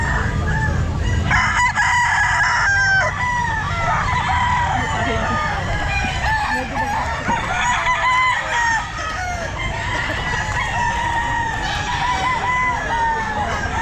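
Several roosters crow over and over at a rainy outdoor pet market, loud and close, with hens clucking and a busy crowd murmuring behind them.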